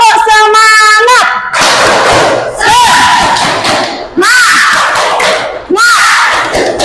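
Schoolchildren in a classroom perform the 'tepuk semangat' clapping chant, loud rhythmic claps and shouted group chanting in several bursts, with a teacher's voice leading between them.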